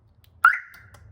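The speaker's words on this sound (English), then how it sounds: "Now the alarm is on." A car alarm system's siren sounds once, a loud tone with a sharp start that sustains and slowly fades over about half a second, with quiet low hum around it.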